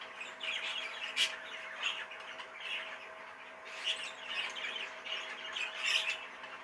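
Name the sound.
budgie squawking and chirping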